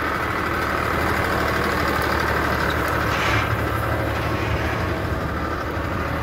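Farmtrac 70 tractor engine running with a 60 cutter rotavator in dry soil, a loud, steady diesel drone with constant low rumble and clatter, close and unbroken throughout.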